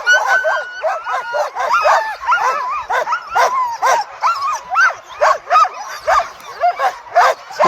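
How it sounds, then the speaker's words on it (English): Alaskan husky sled dogs from a racing kennel bark and yip excitedly at the start of a sled dog race, a dense, loud, close chorus of repeated barks continuing without a break. "Beautiful dogs."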